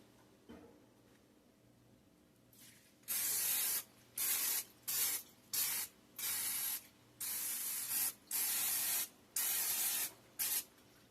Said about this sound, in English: we're going to spray our crock pot first